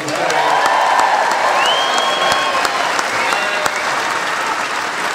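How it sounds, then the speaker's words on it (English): Loud, sustained applause from a large comedy show audience, steady clapping filling the room with a few faint shouts mixed in. "Can we have a round of applause for John Bishop?"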